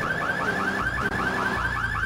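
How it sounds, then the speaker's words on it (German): A car alarm in the video game GTA III wails in a fast repeating warble, loud and steady throughout with no talk over it. "So, ich lasse jetzt die Alarmanlage mal aus."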